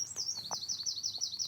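Birds in a Cornwall garden near the beach give a quick, rapid series of high chirps in a steady run, fairly faint and set against a quiet outdoor background with no voices.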